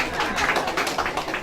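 An audience at a Haitian cultural TV show claps in a burst of uneven, closely spaced hand claps, moderately loud and fairly near, over a muffled background rumble.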